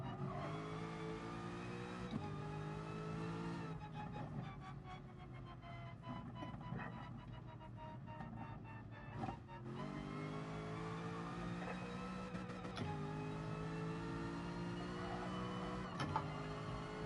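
An Aston Martin engine revs hard in a racing video game at the Nürburgring, a loud, steady drone that climbs in pitch through each gear and drops sharply at every shift, with a brief lift partway through.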